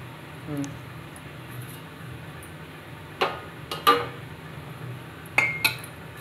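Scattered clinks and scrapes of a utensil against a metal pot or dish as chicken pulao is served, several short knocks spaced apart against a quiet background hum.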